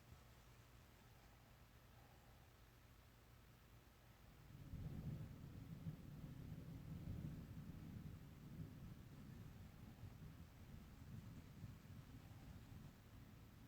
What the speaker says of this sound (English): Uh-oh, storms are coming.